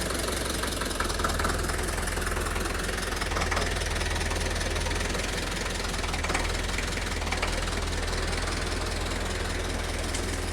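A tractor engine drones steadily and loudly, close by, as it pulls a large tree with a wire, a continuous rough knocking rumble throughout.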